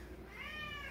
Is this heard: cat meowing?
yes